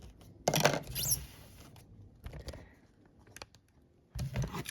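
A knife scrapes and cuts along marked lines on craft material for Mos Eisley-style furniture chairs, in a few short, close scraping strokes separated by pauses.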